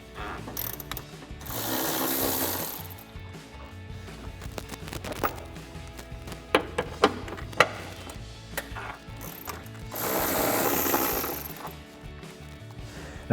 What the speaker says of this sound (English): we can remove these 2 12mm bolts at the bottom of our intake box. So we'll grab a 12mm socket.